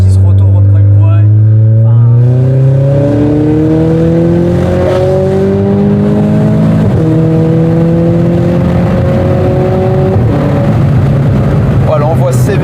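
A loud Stage 2 tuned Renault Clio 4 RS Trophy engine revs and climbs through gears, heard from outside, pitch rising then dropping and rising again, close and continuous with a rough exhaust note.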